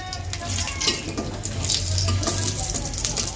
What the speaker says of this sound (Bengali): লাল লাল করে ভাজবো